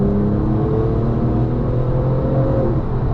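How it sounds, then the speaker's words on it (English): A tuned Porsche 911 997.2 Turbo's exhaust rumbles steadily up close, a deep droning engine note with a smooth, slightly rising whir and no pauses. "when you're in Sports Plus mode and you're going for it, the exhaust actually quietens down"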